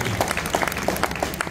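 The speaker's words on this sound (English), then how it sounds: "give yourselves a round of applause" Audience at a library talk with the cast of Good Times applauding themselves, a brief burst of dense, close clapping.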